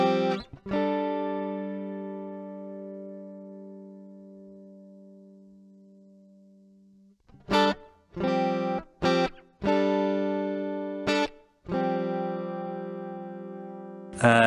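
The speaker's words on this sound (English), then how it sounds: "this is pre-delay, adds on an adjustable amount of delay before the reverb decay" Electric guitar through a Fender Marine Layer reverb pedal with pre-delay: one sustained chord rings out and decays slowly over several seconds, then a run of short plucked notes and chords, each followed by a lingering reverb tail.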